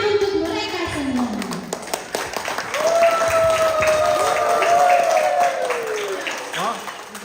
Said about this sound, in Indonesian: Mari kita saksikan dan beri tepuk tangan untuk mereka semua.